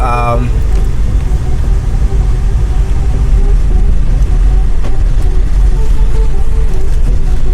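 A Porsche Macan engine heard from inside the cabin while driving: a loud, steady low rumble with a constant road-and-engine drone and no clear revving.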